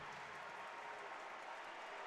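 Home crowd at a Minnesota Golden Gophers basketball game against Washington, standing and cheering with steady applause, a dense continuous roar of claps and voices filling the arena at moderate distance, without a break.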